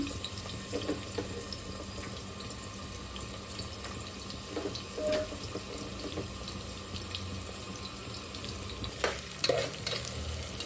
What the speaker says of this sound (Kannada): ಈಗ ಎಣ್ಣೆ ಬಿಸಿ ಆಗಿದೆ. ಅದ ನಂತರ ನಾನು ಹೆಚ್ಚಿ ಇಟ್ಟಿರುವಂತಹ ಈರುಳ್ಳಿನ ಹಾಕ್ತಾ ಇದ್ದೀನಿ.